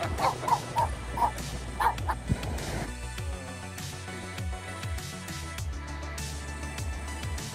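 A small dog on a beach gives a quick series of sharp yips and barks, then drops into softer whimpers, fairly close over low background noise.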